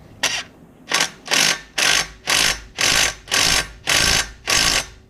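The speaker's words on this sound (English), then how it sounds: "I think the impact wrench is essential for this job." An impact wrench works under a 2014 VW Tiguan R-Line during a rear main seal job, firing eight loud, even bursts of rattling hammering in a steady rhythm, close by.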